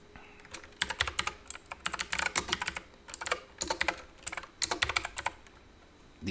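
Someone types a search on a computer keyboard in quick clustered bursts of crisp keystrokes separated by short pauses, close and fairly quiet, with no talking.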